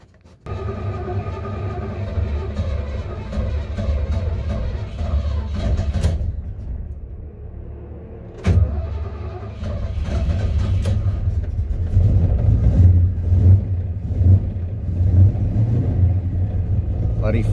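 Holden HQ car on its first test drive, a steady low engine rumble from inside, cutting out briefly around mid-clip then resuming with revving, with speech-like sounds over it.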